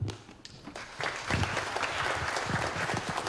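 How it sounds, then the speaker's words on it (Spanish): Audience applause at a political forum on reforming the political and electoral systems of Peru and Colombia, a steady wash of clapping that swells after the first second and carries on evenly at moderate distance. "Un aplauso para él."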